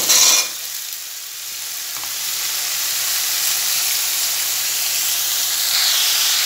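Potato pieces sizzle and hiss steadily in a hot pan after ridge gourd has been fried, a sharp burst of noise at the start settling into a continuous close frying crackle with a faint low hum beneath.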